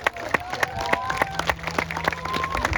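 Audience applause at a Hawaiian luau show on O'ahu, a steady patter of clapping hands from a crowd close by, with a voice speaking over it.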